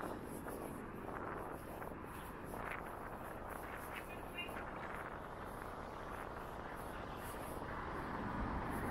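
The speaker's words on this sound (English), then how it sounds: "This is a cold windy day today" Wind gusting across the microphone on a cold, sunny day in Blackpool, a continuous low roaring rumble that holds steady throughout.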